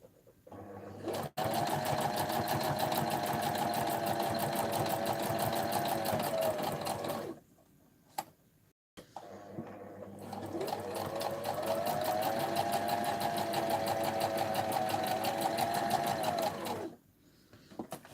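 A sewing machine stitching in two long continuous runs, with a brief pause and a couple of clicks between them, loud and close with a steady whirring drone and no talk.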